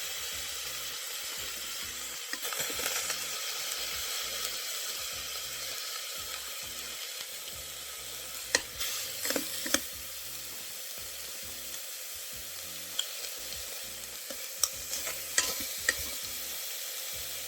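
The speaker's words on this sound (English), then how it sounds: "add the oxtails in there, a few pieces at a time so they can sear on both sides" Jamaican oxtail pieces searing in a little oil in a crock pot, a steady hiss and sizzle close by, broken by intermittent clinks and scrapes as pieces are added and turned.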